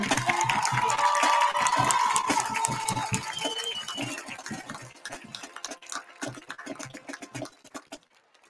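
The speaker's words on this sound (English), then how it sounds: "How about a big round of applause for all our kids out on that field?" A homecoming crowd at a high school football game in the stands cheers and claps loudly for the kids on the field. The noise then thins into scattered, fading claps and crowd murmur.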